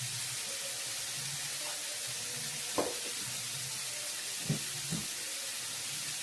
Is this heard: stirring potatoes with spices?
yes